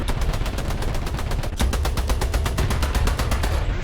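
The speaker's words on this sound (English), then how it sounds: "I'm going to just MG him" Rapid tank machine-gun fire in the War Thunder tank game, a loud, continuous string of sharp close bursts with no voice over it.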